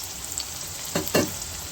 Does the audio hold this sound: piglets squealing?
no